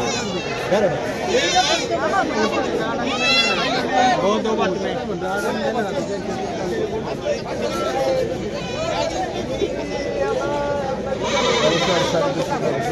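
Goats bleat repeatedly at a busy Saturday goat market in Koregaon, their wavering cries rising over constant crowd chatter and nearby people talking.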